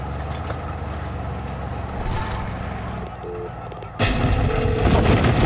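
Gunfire and heavy booms in the Far Cry 6 video game during a convoy ambush, a rumbling low-heavy barrage that swells sharply partway through and stays loud and dense to the end.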